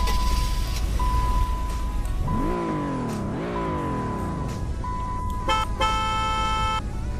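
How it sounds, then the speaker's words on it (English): A Dodge Grand Caravan in the Roblox Greenville driving game: a steady engine hum under a single tone, an engine revving twice in rising sweeps, then a burst of harsh horn honks toward the end. "This is how the Grand Caravan sounds."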